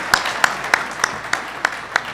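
Sparse, evenly spaced claps, about seven sharp hits in slow rhythm, from an audience at a university venture pitch event, fairly close and otherwise quiet.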